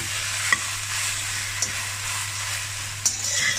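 Okra frying in a pan makes a steady, close sizzle for a few seconds, with occasional light clicks from stirring and no voices.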